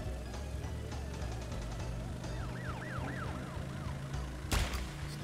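A police siren wails in rising and falling sweeps for a few seconds, moderately loud over a steady background of other sound.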